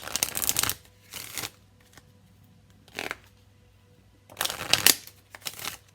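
Romance Angels oracle cards being shuffled by hand in several quick riffling bursts separated by short pauses, close and crisp.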